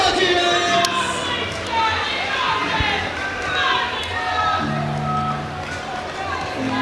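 Crowd noise at a powerlifting meet, the British Open Classic, rising in support of a female lifter opening at 147 kg; a steady broad murmur of voices and calls with some cheering, people talking throughout.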